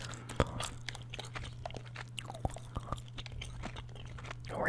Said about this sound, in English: I'm chewing two pieces, so hopefully the flavor lasts a little bit longer.